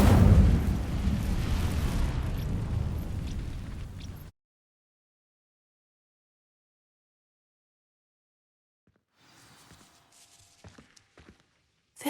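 A dense, roaring burst of conjured fire from the Incendio spell in Hogwarts Legacy fills the first four seconds, then cuts to near silence, followed by faint scattered clicks and rustles.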